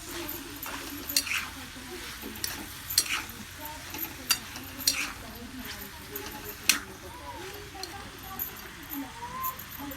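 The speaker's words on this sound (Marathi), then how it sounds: "चांगलं हलवून घ्यायचं असं" Bottle gourd bhaji is stirred in a pan, with repeated sharp spatula scrapes and clinks over a low sizzle, and someone talks between the stirs.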